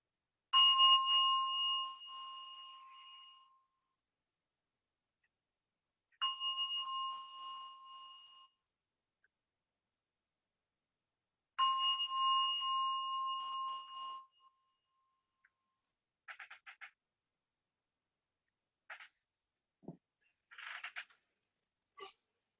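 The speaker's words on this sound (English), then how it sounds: "I'll ring the bell 3 times to bring us into your practice today" A meditation bell at the start of a chair yoga practice is struck three times, each ring a clear, sustained tone fading over a few seconds, followed by faint scattered small noises in quiet.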